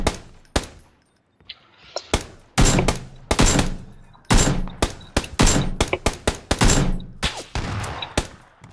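Gunfire in a squad-based shooter game, a shotgun among it: loud, dense bursts of sharp shots with brief pauses, some rapid volleys overlapping.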